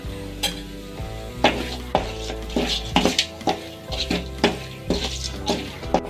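Mutton pepper fry sizzles in a pan as pepper is added and stirred in, with repeated scraping and clanking of a spoon against the pan over an ongoing fry, close and lively.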